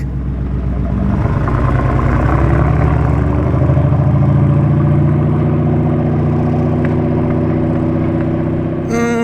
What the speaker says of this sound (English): I think I hear an hybrid powertrain coming out